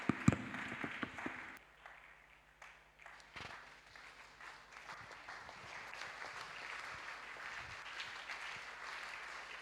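A church congregation at a midweek communion service claps and applauds together, a sustained wash of hand-claps that swells and carries on for several seconds at moderate volume.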